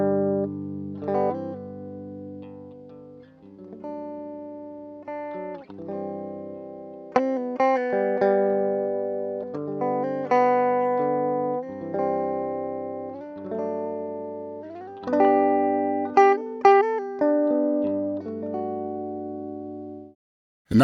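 A clean electric guitar DI signal, dry and thin, playing picked notes and short chordal phrases with sharp attacks and quick decays, close and with no room sound.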